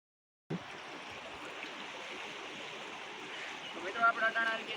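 Floodwater after heavy rain rushes over a bridge in a steady broadband roar that begins abruptly and swells with louder surges toward the end.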